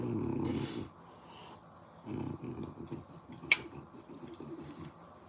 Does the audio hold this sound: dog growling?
yes